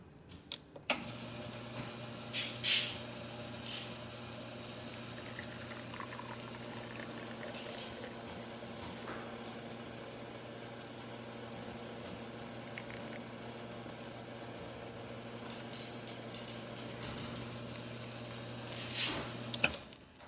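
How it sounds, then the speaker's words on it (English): A serviced La Marzocco espresso machine pulls a shot, giving a steady low pump hum with a liquid hiss and gurgle, plus a few clicks near the start and end. "And now let's go ahead and pull a shot."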